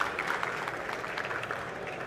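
Brief, fairly quiet applause from a conference audience greeting a speaker, a soft wash of clapping that stays even and moderately distant throughout.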